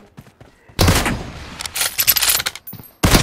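Rapid bursts of gunshots in a 1v1 mobile battle royale game match, loud and close, with clustered shots, short gaps and a final sharp burst.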